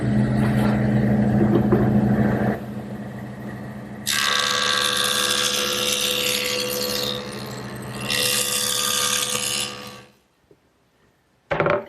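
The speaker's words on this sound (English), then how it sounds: "the next thing I want to do is joint this back edge so that it's straight and square" A jointer machine runs a wooden panel's back edge across its cutterhead, a loud steady whine and hum with two brighter bursts of cutting noise, then the motor spins down and a brief clunk follows, no talking.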